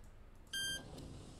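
A single short electronic beep from an entry intercom in the horror game Parasocial, a clean tonal bleep lasting about a quarter second over a quiet, low background hum.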